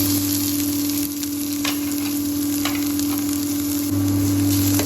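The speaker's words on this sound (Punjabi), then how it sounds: "ਪਿਆਜ਼ ਤੇ ਲਸਣ ਹੈ ਜਿਹੜੇ ਹੌਲੀ ਹੌਲੀ ਮੀਡੀਅਮ ਸੇ ਤੇ ਉੱਤੇ ਭੁੰਨ ਰਹੇ ਆ ਆਪਾਂ" Onion and garlic fry slowly on medium heat for a tadka after cumin, producing a steady close sizzle with a few faint stirring scrapes over a constant low hum.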